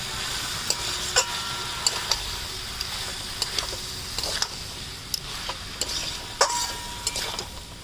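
Pointed gourd and potatoes frying in a pan, a soft sizzle under repeated sharp scraping taps of a spatula stirring at an irregular rhythm, close and fairly quiet.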